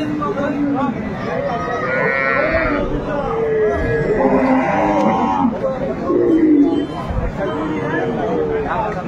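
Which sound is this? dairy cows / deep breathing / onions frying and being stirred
dairy cows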